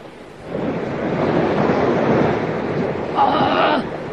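Steady rushing surf washes over the shore with a broad roar, swelling slightly, and a brief faint higher tone rises near the end.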